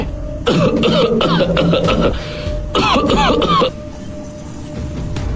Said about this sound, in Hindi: तभी दादाजी खांसने लगे।